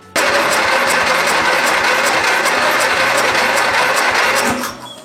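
A small engine catches and runs with a fast, buzzing idle, loud and close, holding steady for several seconds before dropping off abruptly as it stalls.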